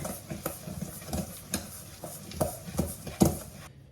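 Oat granola ingredients being stirred together with honey in a bowl, a series of soft, irregular scraping and clumping strokes about twice a second, close and quiet, with no voices.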